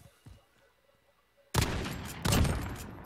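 Gunfire in a competitive video game match: near silence with a few faint ticks, then two loud bursts of shots about a second apart, each trailing off into rumble.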